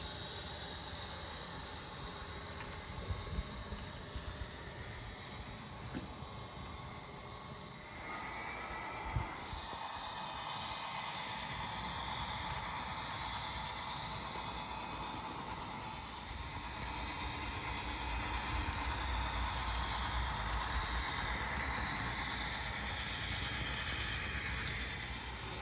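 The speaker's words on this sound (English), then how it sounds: "Train 17 will make one trip around the main track loop" Santa Fe local freight train on the Brazos Valley Subdivision rolling around the main track loop, a long steady rumble with hissing and faint high wheel squeal, moderately loud and continuous, no voices.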